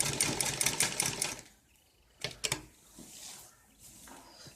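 A sewing machine stitches lace onto a net cloth ladies' suit, running in a rapid rattling burst, pausing, then restarting with short bursts and a brief run, fairly close and alone.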